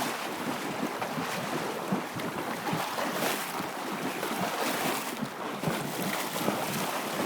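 Water rushes and sloshes as a vehicle crosses the muddy Peace River, a continuous broadband roar with wind buffeting the microphone and uneven splashing surges, loud and close, with no talking.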